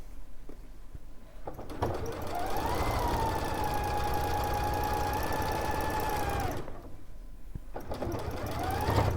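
A sewing machine stitches cushion fabric in a steady, continuous run of several seconds, starting and stopping with quieter gaps on either side, close and clear.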